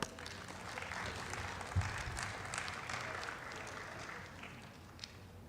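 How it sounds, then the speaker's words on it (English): Sustained audience applause fills a conference hall at a Future Fest 2024 event, steady clapping from a large crowd welcoming a speaker to the stage, moderately loud and continuous. "Please, a round of applause for him."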